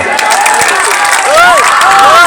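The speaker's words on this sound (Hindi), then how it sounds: "माननीय विधायक करवट श्री अमरेंद्र पांडे जी के लिए" Crowd at a live Bhojpuri stage show applauding and cheering, a dense, steady wash of clapping with scattered shouts and whistles, loud and continuous throughout.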